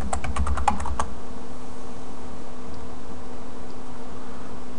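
Password typed on a computer keyboard during an Ubuntu 10.10 setup, a quick burst of close, crisp keystrokes lasting about a second, then a quiet steady hum of room and computer noise.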